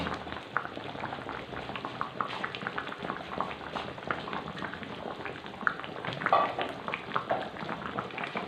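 Asam pedas broth with beef bones bubbles at a rolling boil in a pot, a soft continuous gurgle with occasional louder pops, heard close and alone.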